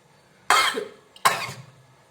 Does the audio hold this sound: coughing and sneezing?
yes